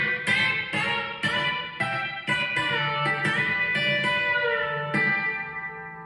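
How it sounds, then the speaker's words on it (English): B-bender electric guitar playing a bouncing shuffle part in G, steady plucked chords and notes with occasional bent pitches, close and upfront, no voices. "we are coming out of the gates in G with this bouncing Bender part that is corresponding with what the"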